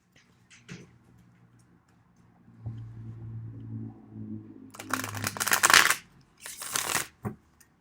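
A deck of tarot cards is shuffled for a reading, with quiet handling and a low hum at first, then loud close riffling bursts near the end with no talking.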